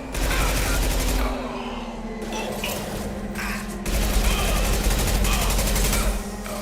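Concussive shot gunfire in Mass Effect: loud, rapid combat fire and thudding blasts over a sustained low mechanical drone, with dense battle noise throughout.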